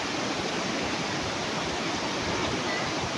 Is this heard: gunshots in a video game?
no